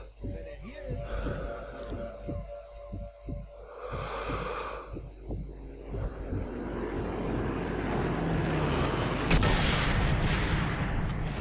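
A propeller airplane drones overhead in Sniper Elite 3, growing steadily louder and closer, while someone talks quietly and a few sharp sniper shots crack early on.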